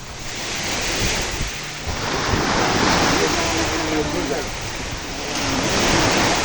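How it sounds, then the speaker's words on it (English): Ocean waves wash onto a beach in Kefalonia at Alykes, a continuous broad roar of surf swelling and easing, with wind rumbling across the microphone. "Just listen to the sound of those waves."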